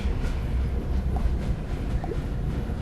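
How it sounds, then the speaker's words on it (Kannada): Steady rumbling train noise from a video game, a locomotive running on toward a tunnel, continuous and fairly loud with a faint clickety rhythm and no voices. "ಇನ್ನು ಕೆಲವೇ ಕ್ಷಣಗಳಲ್ಲಿ ಈ ಟ್ರೈನ್ ಮುಟ್ಟುತ್ತೆ ಟನಲಲ್ಲಿ"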